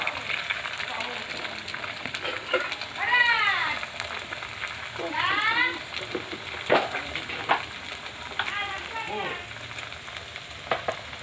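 Egg cracked into a frying pan of cabbage, potato and carrot in a little oil, giving a steady close sizzle throughout, with someone talking over the frying in short phrases.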